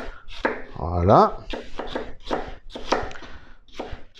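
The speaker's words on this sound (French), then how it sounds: "Maintenant, on émince les oignons, tu vois." A knife slicing onions on a board during a home stew of thrushes, blackbirds and jays: quick, rhythmic chopping taps, close and fairly loud, with someone briefly speaking over them.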